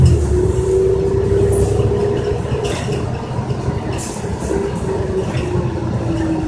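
A 2014 New Flyer XN40 city bus cruising on a freeway, heard from inside as a loud, steady road roar and engine drone with a faint whine and occasional rattles and clicks.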